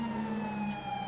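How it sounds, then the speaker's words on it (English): A police car siren wails during a code 3 emergency run, one steady tone heard briefly and fairly loud over the vehicle's engine. "Everyone needs to fucking listen to the siren"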